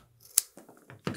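A leather lace snipped off with scissors: one crisp close cut among soft handling rustles, recorded quietly.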